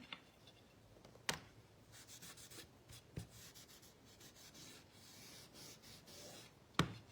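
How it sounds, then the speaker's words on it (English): Paint rubbed by hand onto a wooden sign for a whitewash finish, a soft continuous scrubbing and rubbing texture, faint and close, punctuated by a few sharp taps or knocks. "just taking this paint and rubbing it on like this is giving it a whitewash look"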